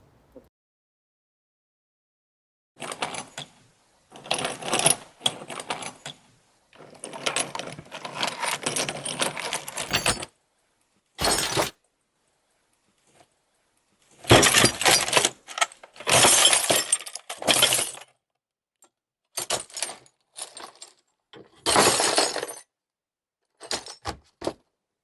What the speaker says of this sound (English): So we have our Foley artist playing with glass in the Foley stage.